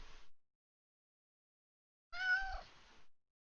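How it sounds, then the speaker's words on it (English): A house cat gives a single clear, faint meow after a short silence, with a brief soft sound just before it. "My cat says hello."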